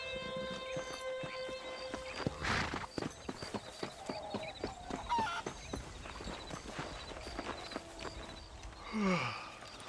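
Horse hoofbeats from riding in the video game Red Dead Redemption, a steady clip-clop of footfalls under game music and ambience, with a brief louder swell near the end.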